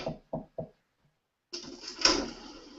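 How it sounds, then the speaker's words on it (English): Three quick, close knocks on a door as a sound effect in a narrated story, followed after a pause by a longer door-like clunk and rattle. "A policewoman knocked at the door."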